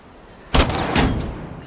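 Two loud gunshots from a weapon in Rainbow Six Siege fired on a shooting range, close and punchy, about half a second apart, each with a short echoing decay and no voice over them.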